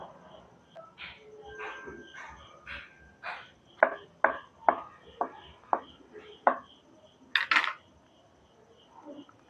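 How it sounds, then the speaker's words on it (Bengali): A knife cutting thick rolled goja dough into pieces, a run of about ten sharp, close knocks on a board at an irregular pace, with softer handling sounds and a voice near the start. "এবার আমি চাকু দিয়ে কেটে নেব।"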